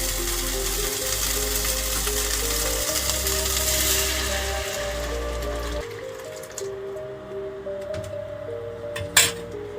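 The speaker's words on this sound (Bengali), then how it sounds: "মশলা কষানো আমি এবার ডালটা ঢুকে দেবো" Lentils going into hot spice masala in a pan, giving a steady hiss with a clink of a utensil against the pan, a low hum underneath, then a quieter tail with one sharp knock near the end.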